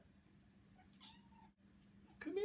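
A cat gives a soft, short meow, then a louder one near the end, over quiet low hum in an otherwise still room.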